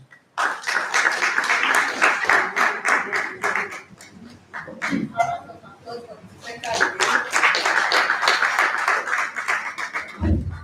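A seated audience at an annual in-house research review and planning meeting claps after a presentation, bursts of close, brisk hand clapping with a lull midway and a voice briefly heard between them.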